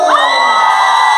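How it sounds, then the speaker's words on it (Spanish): A happy crowd at a festive performance in Pantitlán, Mexico City, lets out a short burst of loud, overlapping shouts and cheers, close and dense throughout. "aquí se escucha el grito de la gente que está contenta"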